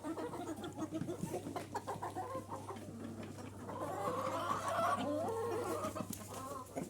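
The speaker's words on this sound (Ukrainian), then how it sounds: "А цей півень б'ється, він головний, мабуть, серед них." Chickens and a large rooster in a backyard coop during an evening check, clucking steadily in an overlapping chorus that grows busier and louder after the first few seconds, close to the microphone with no talk.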